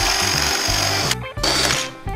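A power drill with a 1.5-inch bit bores into wood while building a birdhouse, grinding loudly and steadily for about a second, pausing briefly, then biting in again in a second burst.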